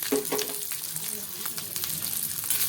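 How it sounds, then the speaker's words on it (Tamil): Small onions and garlic fry in hot groundnut oil, giving a steady close sizzle with faint stirring clicks throughout and no speech. "பூண்டு வெங்காயம் நல்லா வதங்கட்டும்."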